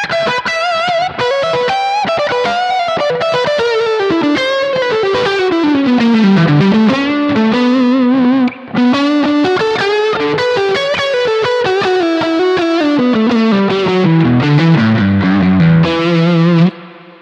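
A Strat-style single-coil electric guitar through a Thomas Blug AMP1 Mercury Edition amp plays a continuous distorted lead line with effects, loud and close, with sustained bending notes and a brief pause partway through.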